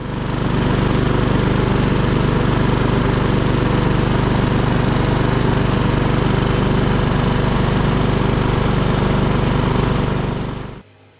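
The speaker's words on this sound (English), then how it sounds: "we'll get the mower started here so that the oil will flow a lot easier" A lawn mower engine runs at a steady idle to warm the oil, a loud and continuous close-up drone. It cuts off abruptly near the end.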